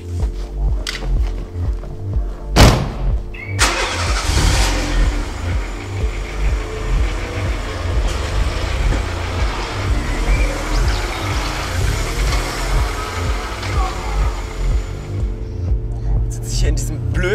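Car engine turns over and rumbles, then revs as the vehicle pulls away and keeps driving, loud and close, with a few knocks early on and people talking over the engine noise.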